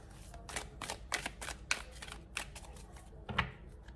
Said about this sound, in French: Et donc, je prends 2 dernières cartes.